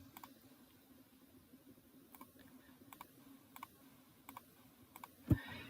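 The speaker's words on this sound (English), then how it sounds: "So if I hold down Shift while I click each one of these," Mouse clicks while editing paths in Inkscape with Shift held: a series of faint, sharp clicks spaced about a second apart over a low hum, with one louder click near the end.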